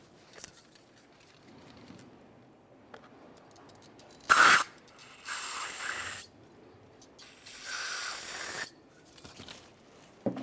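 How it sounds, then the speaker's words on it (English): Parts cleaner from an aerosol can is sprayed straight into the rear brake caliper slider ports of a 2002-2009 Chevrolet Trailblazer, in three close, loud hissing bursts: one short, one about a second long, then a longer one lasting over a second. "use some parts cleaner, and spray it directly into this area."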